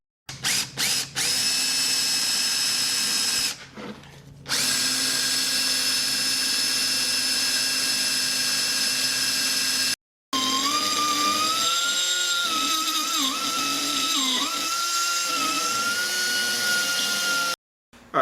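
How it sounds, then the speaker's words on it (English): A high-speed die grinder cleans up a slot in an aluminum transmission adapter, whining loudly in several short bursts and then longer runs, its pitch dipping as the bit bites into the metal. "we're going to take a little die grinder bit and we're going to go in and clean up this slot"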